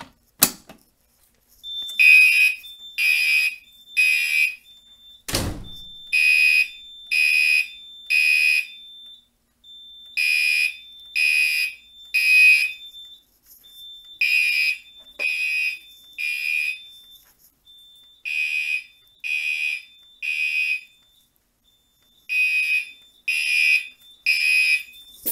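A Simplex 4010 fire alarm system sounds during a test, giving loud, piercing electronic tones in repeated groups of three, temporal-pattern style, with a steady thin high tone between bursts and a couple of sharp clicks.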